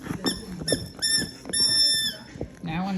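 A squeaky dog toy being chewed by a German Shepherd puppy, giving several high, sustained squeaks in quick bursts, close and loud, with a person speaking in between.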